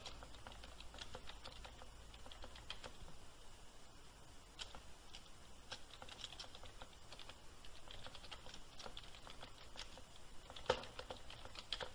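Steady typing on a computer keyboard while filling in an address form, quick irregular clicks and taps, close and fairly quiet, with no talking.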